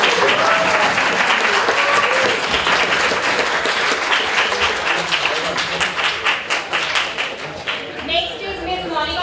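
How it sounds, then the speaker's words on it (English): An audience at a summer internship valedictory session breaks into loud, sustained applause with some cheering, the clapping thinning toward the end. "it must be a very loud cheer for him"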